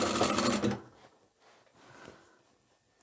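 A sewing machine stitches a seam on a giant drawstring laundry bag, a loud continuous whirring burst for under a second, then only faint handling noises and a small click at the end.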